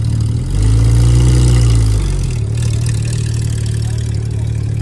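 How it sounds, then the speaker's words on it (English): A Mercedes SLS rolls in at a car show in Miami, its engine a deep, steady low rumble that swells briefly and then settles into a smooth idle-like drone. "See a nice SLS rolling in"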